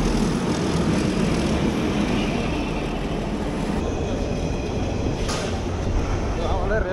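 A train passes the Sayedabad rail crossing with a loud, continuous close rumble and rattle that fills the whole stretch, while voices come through faintly underneath.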